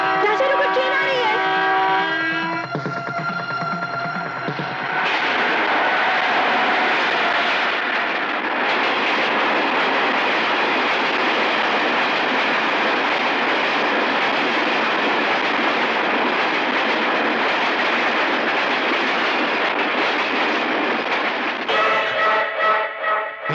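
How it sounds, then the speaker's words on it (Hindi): A train approaches with a loud, rising rumble and rushing roar that builds after a tonal horn-like opening and stays dense and close for most of the scene, with a voice speaking over it near the start. "राजा रुको, ट्रेन आ रही है।"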